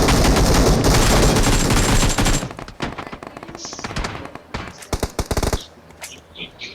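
Bursts of automatic gunfire in a shooting video game, loud and dense for the first couple of seconds, then scattered sharp shots and thuds with pauses between them.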